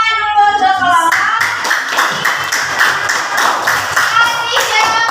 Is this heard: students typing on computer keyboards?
no